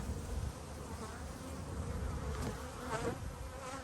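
Honey bees buzz steadily from an opened hive holding only a few frames, a close, continuous droning hum that carries throughout.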